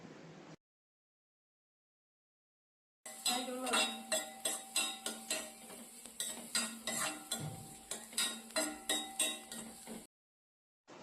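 An egg mixture seasoned with pepper powder and garam masala is sautéed in a pan, with a fast run of rhythmic spoon scrapes and clinks against the metal over a light sizzle, close and loud between silent gaps.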